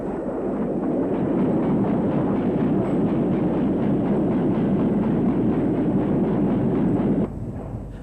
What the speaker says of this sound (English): This is 7806 on a down train.